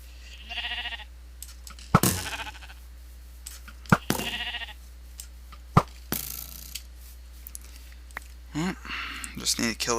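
In TerraFirmaCraft, a Minecraft video game mod, a sheep bleats several times, mixed with sharp game clicks and hits. Someone talks over the sounds.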